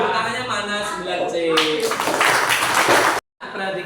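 A class of ninth-grade students in a school chemistry lesson breaks into a burst of clapping that swells and then stops abruptly, with talking before and during it.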